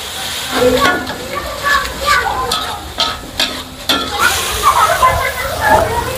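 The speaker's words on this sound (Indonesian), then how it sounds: "langsung aja kita masukin bumbunya digongsor dulu sampai bumbunya mateng ya" Spice paste being stir-fried in a pan for spicy beef ribs, a steady sizzle with scraping stirs throughout. Someone talks under it and laughs now and then.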